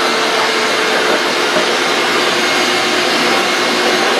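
A compact shop vac rigged to blow sawdust off a hand-carved wooden motorcycle part roars loud and steady with a high whine, close by and unbroken throughout.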